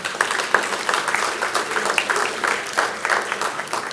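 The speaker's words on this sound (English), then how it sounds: "we can give good round of applause for him." A round of applause from an audience at the inauguration of an international literature seminar, fairly close and steady, with the distinct claps of individual hands standing out from the crowd.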